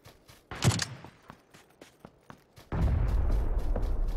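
Gunfire from the battle royale game PUBG: a few sharp cracks and thumps spaced across the first seconds, then a loud steady rumbling roar takes over to the end.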